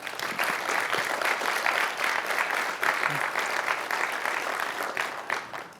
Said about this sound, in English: let's give Lakeview High School and all of San Angelo ISD a big round of applause for hosting this tonight.